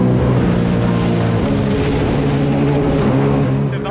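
A jet ski engine running on aviation fuel revs steadily near the mic, its loud, continuous harmonic drone holding and pushing higher throughout.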